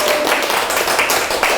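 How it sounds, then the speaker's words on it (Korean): Audience applause at a writing lecture, a short dense burst of clapping that fills the whole moment, close and loud, with a little voice mixed in. "자, 힘찬 박수로!"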